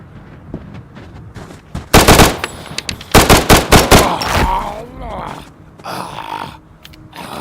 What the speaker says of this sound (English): The gunshots in here are so freaking realistic.